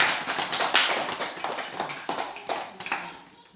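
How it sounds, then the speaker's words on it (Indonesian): A group of students in a school classroom claps together, a dense patter of close hand claps that peaks early and thins out over a few seconds, with no talking. "Mari kita tepuk tangan dulu untuk kegiatan kita."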